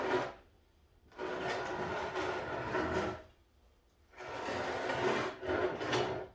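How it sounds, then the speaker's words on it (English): A ceramic bonsai pot, holding a Mallee eucalyptus, grinds and rasps against a tabletop as it is rotated, in two long scraping bursts separated by a quiet pause, fairly close and loud. "Sorry about the noise of the pot on the table."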